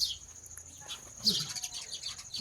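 House sparrows nesting at a home chirp as they feed two chicks, giving scattered high tweets and a burst of busy chirping midway, fairly close, over a quiet background.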